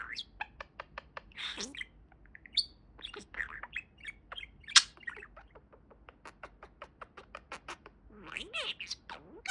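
A budgie parakeet chirps and squawks up close in quick runs of sharp tweets, scratchy chatter and a few harsher squawks, fairly quiet overall with brief gaps between bursts.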